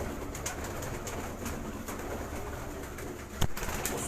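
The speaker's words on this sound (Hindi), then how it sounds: "ये हमारी मेन ब्रीडर कबूतरी है।" Pathan breed pigeons in a loft give soft, repeated cooing calls over a faint background hum, with one louder burst near the end. No one talks.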